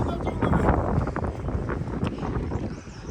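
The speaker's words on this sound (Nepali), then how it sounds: "हावा चलेको छ।" Wind gusts buffet the microphone in a steady, rumbling roar, with a voice heard faintly through the blustery noise.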